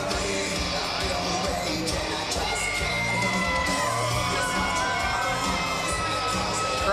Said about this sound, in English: Crowd's starting to fill in here now